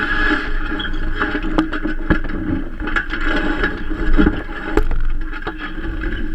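A sailboat moves through water, with close splashing and sloshing against the hull, scattered creaks and knocks, and steady wind-like rush throughout.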